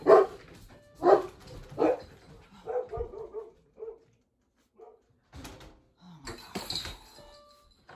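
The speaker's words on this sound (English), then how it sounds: "these dogs are going to drive me crazy" Several loud, close dog barks in quick bursts, followed by quieter yips and whimpers, then another flurry of barking near the end.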